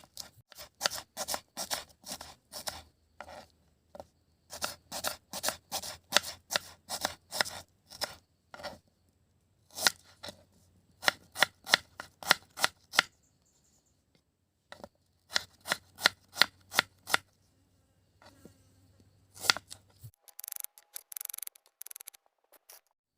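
Knife chopping onions in a village kitchen, with rapid crisp cuts falling in quick bursts. Several runs of rhythmic strokes are separated by short pauses, close and fairly loud, and no one speaks.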